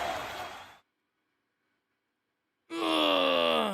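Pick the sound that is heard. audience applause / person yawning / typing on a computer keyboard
person yawning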